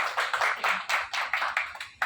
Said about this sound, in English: A big round of applause to the Leela Hotels